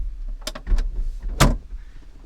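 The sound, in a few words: trunk release opening the trunk of a 1969 Cadillac Eldorado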